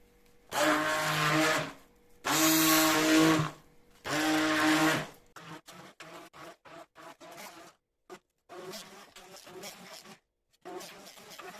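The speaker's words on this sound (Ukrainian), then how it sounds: "кілограм домашнього сиру збиваємо блендером до однорідної кремової структури" A blender whirs loudly in three strong bursts, then runs in short, choppy pulses as thick homemade cottage cheese is whipped into a smooth cream.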